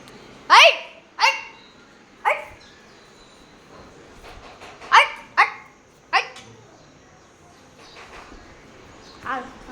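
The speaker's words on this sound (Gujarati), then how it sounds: "કૂતરો આવી ગઈ ગયો અંદર આવીને" A dog barks indoors in a home, giving a series of sharp, fairly close barks spaced a second or two apart, with a few fainter yelps trailing off.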